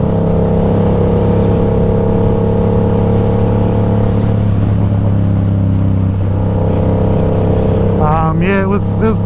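A 2015 Yamaha MT-07 motorcycle with a cheap KO Lightning straight-pipe exhaust idles loud and close in Sydney traffic, a steady droning rumble, with a brief rising rev near the end.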